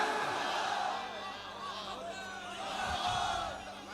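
A gathered crowd at a religious address shouts a chanted slogan response in unison, a swelling roar of many voices rising and falling twice across a few seconds.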